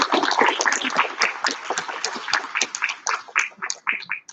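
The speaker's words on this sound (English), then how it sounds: "So we can give you a round of applause." An audience at a school spelling bee applauds spellers who went out in the third round, dense overlapping clapping from many hands, loud and close, continuing steadily and thinning slightly toward the end.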